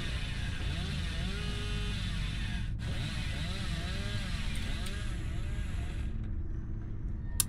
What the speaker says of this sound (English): We can chainsaw through here.